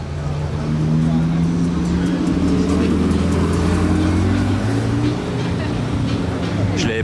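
Red Porsche 918 supercar driving past on a street during the Monaco Grand Prix weekend, a loud sustained engine drone that rises and shifts in pitch as it passes, with a person talking over it.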